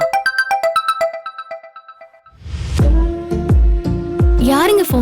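A phone ringtone plays a repeating melodic pattern of clear tones for a couple of seconds, then gives way to a louder scene with dramatic music hits and a voice, as an unanswered incoming call in a Tamil TV serial.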